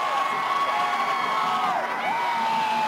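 Stadium crowd roaring at a Texas Longhorns vs Baylor Bears college football game, a steady dense wash of cheering and whoops with a few rising shrill whistles, loud and sustained throughout.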